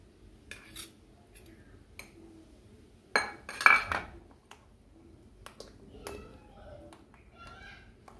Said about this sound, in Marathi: त्याच्यामध्ये आपण हे सर्व एकसारखं मिक्स करून घेणार आहोत